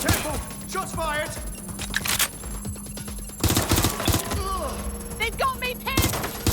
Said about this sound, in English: Careful! Shots fired!